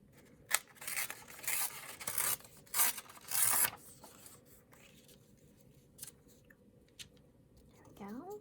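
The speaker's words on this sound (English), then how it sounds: "I'm going to go ahead and tear some pieces of it" Paper is torn into pieces in several short ripping bursts, close and crisp, separated by pauses and small handling noises, with someone speaking briefly between them.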